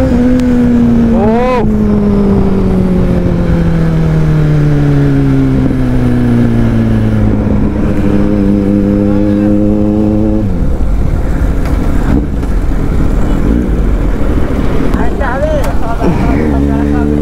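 A Kawasaki Z900 motorcycle engine revs hard through a wheelie on a road, the pitch rising and falling in long sweeping pulls, loud and close, with people talking over it.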